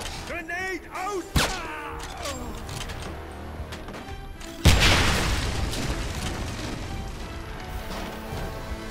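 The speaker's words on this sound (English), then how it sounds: "Grenade out!" Grenade explosion in the video game Wolfenstein 2009, a sudden loud boom midway with a rumbling decay, following game voices shouting and earlier sharp impacts.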